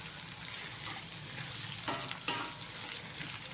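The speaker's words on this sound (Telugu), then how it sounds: "ఇంకా బాగా ఫ్రై అయిపోవాలి ఇవన్నీ." Bitter gourd slices fry in hot oil in a pan, giving a close, continuous crackling sizzle with a few soft stirring scrapes.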